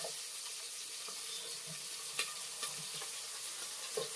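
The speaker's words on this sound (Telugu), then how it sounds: "ఆనియన్, పచ్చిమిర్చి వేసుకొని మంచిగా కలుపుకోవాలి ఫ్రెండ్స్" Sliced onion and green chillies sizzle quietly in a pan while a spoon stirs them, faint steady frying with a few soft scraping taps.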